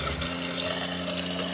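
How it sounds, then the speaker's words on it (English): Cold water runs steadily from the sink faucet of an RV being winterized, with the hot water lines valved off; a close, continuous rushing flow with no break. "So I got water going through that one."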